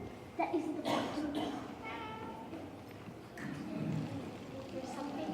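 A cat meows a few times, close and fairly clear, while people talk nearby.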